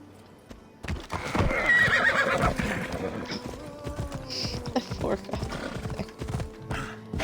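A horse in Assassin's Creed Odyssey whinnies loudly and close, with quick clip-clop hoofbeats running through, while a player talks over the game sounds.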